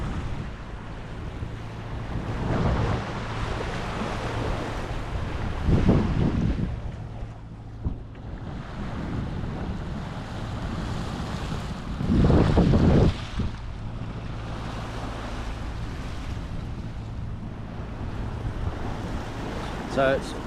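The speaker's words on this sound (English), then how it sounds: "So this is what the middle of the Pacific Ocean looks like in this location." From the bow of a sailboat in the middle of the Pacific Ocean, steady wind buffets the microphone over a continuous wash of ocean waves, with two louder surging splashes rising and falling.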